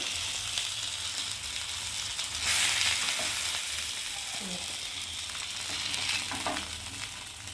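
A piece of bhola fish fries in hot oil in a pan, giving a steady close sizzle and crackle with occasional spatter and faint utensil clicks, no voices over it.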